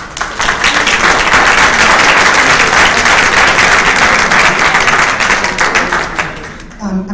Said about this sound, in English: I'm glad to hear the clapping for that recommendation.